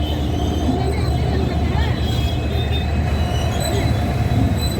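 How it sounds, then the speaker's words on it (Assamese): A lone locomotive engine with no carriages rumbles past a lowered level crossing gate, with wheels squealing and a continuous heavy roar close by under people's voices. "ইঞ্জিন অকল ইঞ্জিনটোহে আহিছে বেলেগ একো অহা নাই"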